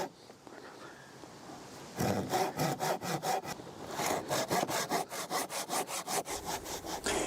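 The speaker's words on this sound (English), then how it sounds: "I've made myself a miter box, and I'm going to cut all the miters by hand" A hand saw cuts wooden miters in a homemade miter box outdoors, its loud, close back-and-forth strokes falling into a fast, regular rhythm of about twenty rasping pulls with no talk.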